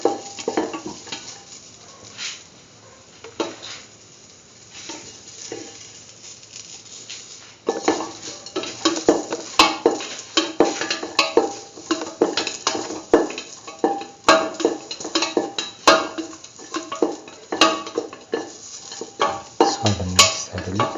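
Potato mustard filling is sautéed and stirred in a pan, a spatula clattering and scraping against the metal in quick, uneven strokes over a soft sizzle. The strokes grow louder and busier partway through.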